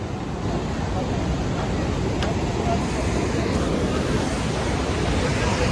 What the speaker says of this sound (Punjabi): ਆ ਪਾਣੀ ਦਾ ਵਹਾਅ ਇੱਕ ਵਾਰੀ ਚੈੱਕ ਕਰ ਲਓ ਤੁਸੀਂ ਆਪ ਕਿੰਨਾ ਜ਼ਿਆਦਾ ਤੇਜ਼ ਆ